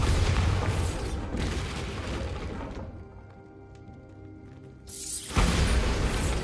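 A Bombarda blast spell goes off in Hogwarts Legacy, with a loud rumbling crash at the start, a quieter stretch of fading debris and mechanical clatter, then a second heavy boom near the end.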